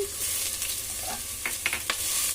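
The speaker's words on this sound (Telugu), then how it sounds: "అల్లం వెల్లుల్లిపాయ పేస్ట్ వేసుకొని పచ్చివాసన పోయేంత వరకు వేయించుకోవాలి" Ginger garlic paste fries in oil for mutton biryani, giving a soft, steady sizzle with a few sharp spoon scrapes and stirring clatters near the end, close by and without talk.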